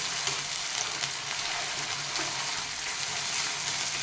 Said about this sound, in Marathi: तेल सुटेपर्यंत चांगला परतून घ्यायचं